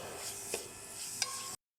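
Carrot halwa with khoya being stirred in a pan: soft, steady scraping with a faint sizzle and two brief clicks of the spoon against the metal, no voices.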